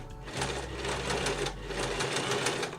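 A sewing machine stitches steadily, gathering fabric as it runs, its close, even mechanical whir continuing without pause for about three seconds.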